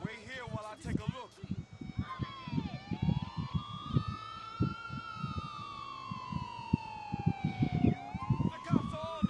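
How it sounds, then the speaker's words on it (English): Police car sirens wail in a chaotic Liberty City video game scene, a long rising and falling tone sweeping over loud, dense chatter and clattering game noise, with voices talking throughout. "when I heard the police sirens and the gunshots"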